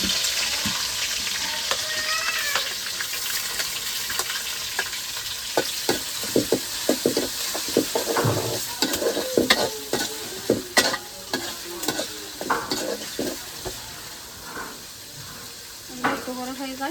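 Onions dropped into a hot pan sizzle and fry, the hiss swelling as they go in, with scraping stir strokes and spatters, while a voice talks now and then.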